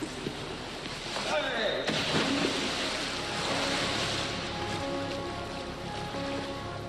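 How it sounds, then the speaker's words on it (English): Water surging and sloshing in an indoor wave tank at the RNLI lifeboat training headquarters in Dorset, a continuous rushing wash with a stronger swell early on, steady and moderately loud. "This is the wave tank at the RNLI's headquarters in Dorset."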